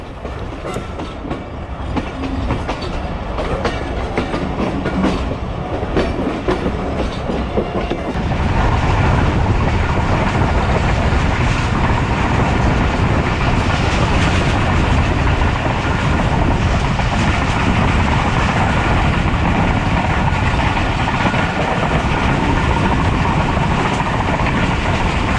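The Karachi Express rolls between Multan and Lahore with a continuous roar of wheels and carriages on the rails, growing louder and denser partway through and holding steady to the end.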